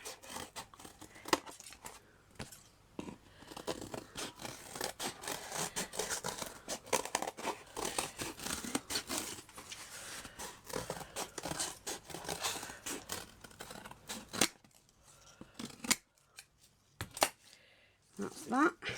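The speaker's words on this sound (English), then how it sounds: "put the two pieces together, cut my shape out." Scissors snipping through two stacked pieces of cardboard for a miniature clay toadstool diorama, a run of crisp irregular cuts and crinkles up close, pausing near the end.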